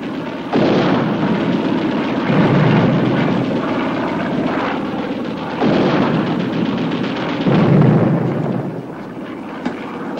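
Five-inch naval guns aboard a 1956 warship fire at a target plane: loud, sustained booming blasts roll and overlap for about ten seconds, with two heavier surges near the start and again later, no voices.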